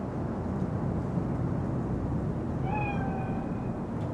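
A cat in a city street scene of the video game Cyberpunk 2077 gives a single short meow over a steady low background hum, close and clear near the end.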